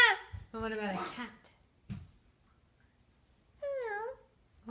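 A small child imitates a cat's meow at home, a short rising-and-falling vocal meow after an adult's spoken prompt, with babbled speech before it.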